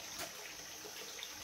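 Water flows steadily from a stepwell beside a hilltop gurdwara, a soft continuous rush like a running tap.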